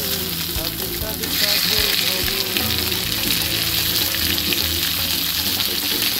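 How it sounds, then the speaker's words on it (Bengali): Chicken hits hot oil with ginger garlic paste and green chilli, sizzling and crackling loudly and steadily, with stirring clatter from a utensil in the pan. "এই যে তেল রিলিজ যখন হয়ে যাবে এই অবস্থাতে চিকেনগুলোকে দিয়ে দিতে হবে।"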